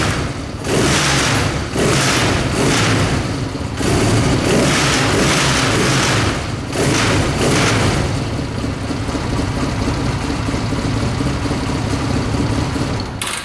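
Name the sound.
Honda CB 250 motorcycle engine starting and revving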